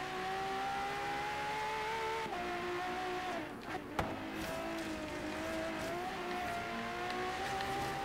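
Race car engine in Forza Horizon 3, racing in the rain, holding a steady high-revving drone with rising and falling pitch as it accelerates through the gears, with a brief thump near the middle, loud and continuous.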